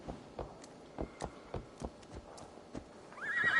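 A horse in the video game Assassin's Creed Valhalla, a series of distinct hoof clops stepping at an even pace, then a loud, wavering neigh rising at the very end, close and alone with no talk.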